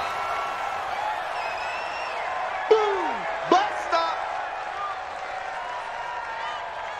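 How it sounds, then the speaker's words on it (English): Stadium crowd noise in Madden NFL 20, Raiders versus Packers, rising ahead of a big third down: a steady, broad crowd roar with a few brief sharp bursts and whistles over it, and no close voices. "The crowd getting into it as we come up on a big 3rd down"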